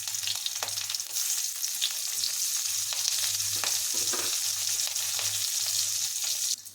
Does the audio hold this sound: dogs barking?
no